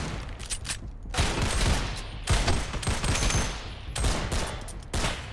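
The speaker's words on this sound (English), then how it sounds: "Yeah, I've shot him 12 times." Gunfire in the Roblox game Blackout: loud, rapid volleys of shots in several sustained bursts with short gaps between them, close and dense.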